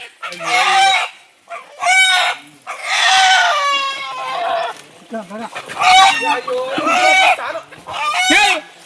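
Chickens cluck and squawk loudly and close by in repeated bursts, with a rooster's crow-like call mixed in among short pauses.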